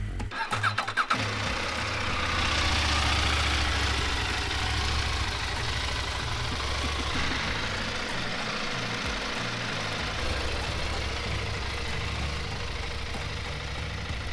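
A CFMOTO MT800 Dakar Edition adventure motorcycle starts with a brief crank, then settles into a steady, close, loud idle with a low, even rumble that holds for the rest of the stretch.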